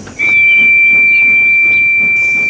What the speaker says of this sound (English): he blew his whistle loud and long